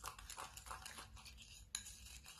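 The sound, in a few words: stirring a homemade face mask mixture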